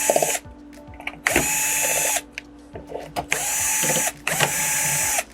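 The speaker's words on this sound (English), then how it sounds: "I'm going to start by removing the screws from the stand first," A power screwdriver whirs in four short bursts, each followed by a ratcheting click, as screws come out of the stand legs of a Vizio M55-E0 4K TV.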